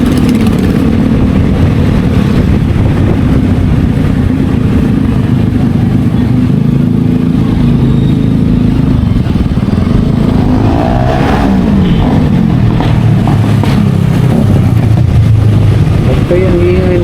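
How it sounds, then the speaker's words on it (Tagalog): Loud, continuous exhaust rumble of passing motorbikes in San Francisco, Quezon Province, droning and revving close by, with a voice talking over it. "Kaya ang ingay ng mga tambutso ng mga motor nila"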